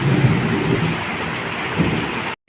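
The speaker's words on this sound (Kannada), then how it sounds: "ಈ ಹವಾಕ ಮಳೆ ಹೊರಗೆ ಬಿತ್ತಂದ್ರೆ ಚಲೋ ಆಗೋದಿಲ್ಲ ರೀ" Heavy rain pours in Goa with deep thunder rumbling through it, a loud continuous roar that cuts off abruptly at the end.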